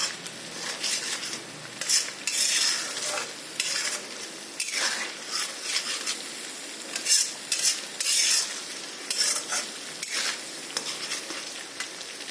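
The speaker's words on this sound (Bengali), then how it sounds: "আর এখন মশলাটাকে ভালো করিয়া আমরা কষাই দেব।" Spice paste with turmeric frying and being stirred in oil for boal fish chorchori, a steady close sizzle broken by repeated scraping strokes of a spoon against the pan, with no talk.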